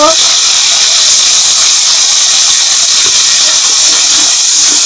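Tomato paste and raw onion hitting a hot pan, giving a loud, steady hissing sizzle that holds constant across the whole stretch, close and unbroken.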